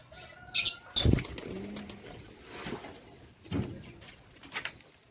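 Pigeons nearby flap their wings in short bursts and give soft low coos, with scattered rustling in between.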